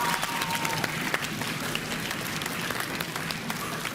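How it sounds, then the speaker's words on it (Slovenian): A crowd claps for a team during a giant Jenga game, a dense, steady round of applause throughout with sharp individual claps standing out and faint voices beneath. "dajte en aplavz vaši ekipi"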